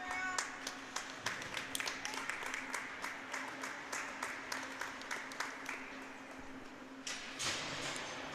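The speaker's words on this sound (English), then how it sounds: "there was some applause as the Milwaukee team left for their rest on the bench" Spectators at a U16 youth ice hockey game in a rink clap steadily as the Milwaukee Jr Admirals skate off to their bench, with scattered claps throughout and a brief louder swell near the end.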